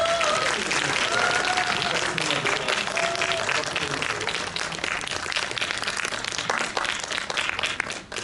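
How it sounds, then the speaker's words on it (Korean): An audience at a film screening talk claps warmly to welcome the director, lead actress and music director, a sustained, dense round of applause with cheers and voices mixed in, easing slightly toward the end. "박수로 맞이해 주십시오."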